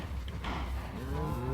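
A Minecraft cow gives a single drawn-out, low, nasal moo, clear and close in the game with no speech over it.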